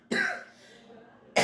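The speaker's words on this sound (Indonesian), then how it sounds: "Maaf, saya lagi batuk." Two sharp coughs from one person, the first followed by a trailing breath and the second cut off at the end, close and clear with no talk.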